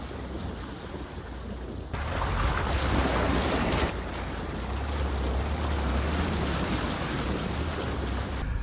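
Swollen river water rushing during the monsoon rains, a loud continuous roar of flowing water mixed with heavy wind buffeting the microphone, with no voices.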